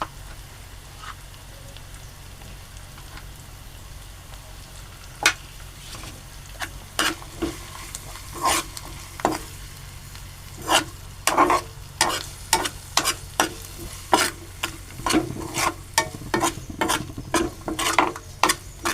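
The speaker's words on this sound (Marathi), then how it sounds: "परतून घेऊ. कांदा थोडासा तांबूस होईपर्यंत टाकू." Onion sautéing in a pan with turmeric, stirred with a spatula: a quiet sizzle at first, then increasingly rapid, loud scraping and clacking strokes against the pan, close by with no talking.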